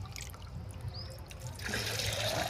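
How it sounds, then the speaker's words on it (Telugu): Water pours into a sour buttermilk mixture meant for spraying garden plants, a soft continuous trickle that swells louder and splashier in the last second. "మనం ఇట్లా నీళ్ళు పోసుకొని"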